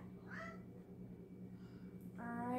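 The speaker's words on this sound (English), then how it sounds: "I always hear a kitty." A domestic cat meows in the background of a room with a steady low hum: one faint short meow early on, then a louder, clearer drawn-out meow at the end.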